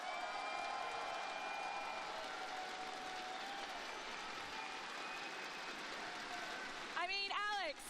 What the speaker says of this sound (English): you're hearing the crowd, you're hearing the excitement